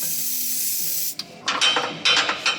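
An aerosol spray can hisses in a long steady burst, cuts off briefly, then fires several short close spurts while working on the exhaust rubber mounts of a 100 Series Landcruiser.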